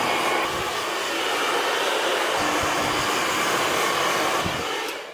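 A hair dryer blows steadily at close range while drying a client's hair in a barber's chair, a loud, continuous roar that holds for about five seconds before cutting off, with no talking.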